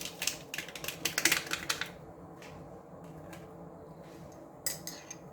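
A spoon stirring a mixture of powdered sugar and vanilla in a bowl gives quick, light clinking scrapes for about two seconds, then a few fainter taps in a quiet kitchen.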